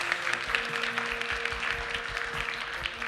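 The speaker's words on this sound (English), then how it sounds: "A round of applause, everyone." Applause from the audience at the closing session of a weather and climate forum: a sustained patter of many hands clapping, moderately loud, with a faint steady hum beneath.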